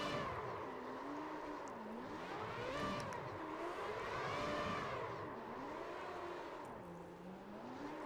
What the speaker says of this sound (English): But do some obligatory donuts if I can figure out how to get this car to spin around in a circle.